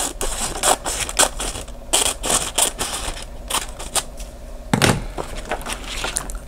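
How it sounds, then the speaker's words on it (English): Blades trimming excess foiled sticker sheet material, a run of close crisp snips and scraping cuts in irregular bursts, with a louder thud near the end. "So I'm just going to trim off this excess."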